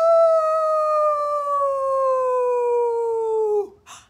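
A single long, steady howl imitated by a human voice, sliding slowly downward and ending abruptly, followed by a brief breathy noise.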